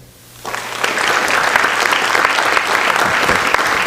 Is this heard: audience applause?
yes